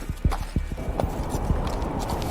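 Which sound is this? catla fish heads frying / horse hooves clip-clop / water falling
horse hooves clip-clop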